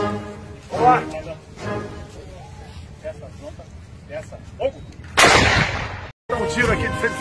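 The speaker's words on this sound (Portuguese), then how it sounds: "Um tiro aqui de 105 aqui" A 105 mm cannon fires a single loud, sharp blast near the end, after several seconds of people talking over outdoor background noise.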